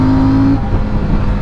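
A CFMOTO 800 motorcycle engine revs loudly and close up, holding a steady high note before dropping off into a rougher, fluttering idle.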